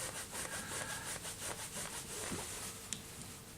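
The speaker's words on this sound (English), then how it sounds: "All you do is rub it down with a bit of wire wool now" Wire wool rubs over a stainless steel coin ring in steady, scratchy back-and-forth strokes, faint and close with no talking.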